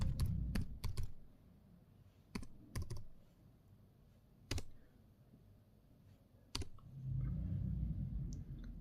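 Clicky keystrokes on a computer keyboard entering a PIN code into an online passport application form, sparse taps in short bursts with pauses between, close and fairly quiet over a low room hum.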